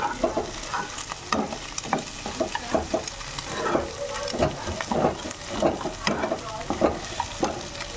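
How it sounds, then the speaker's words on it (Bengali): Vegetables and scrambled egg are stirred together in a frying pan while preparing vegetable chow mein, with repeated scraping and clattering strokes in an uneven rhythm over a soft sizzle, close and moderately loud. "এখন এগুলো দিয়ে একসাথে ভালো করে নাড়িয়ে নেব।"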